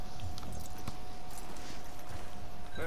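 Horse hooves clip-clop steadily in Red Dead Redemption 2, a run of walking hoofbeats over continuous outdoor game ambience with no voices.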